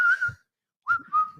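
A person whistles a song, producing three short, clear, high-pitched phrases that are close and loud with a brief pause after the first.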